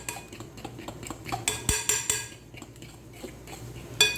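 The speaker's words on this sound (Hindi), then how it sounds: "अब बाकी का बैटर जो है वो मैं इसके अंदर मिक्स कर लूँगी अच्छे तरीके से" Sponge cake batter being mixed in a bowl, with a utensil clinking and scraping against the sides in an irregular rhythm. The sounds are close and moderately loud, with no talk.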